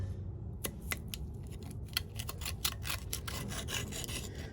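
Comfrey root piece being cut during propagation, giving a run of short, crisp snipping and rasping cuts close by over a low background rumble.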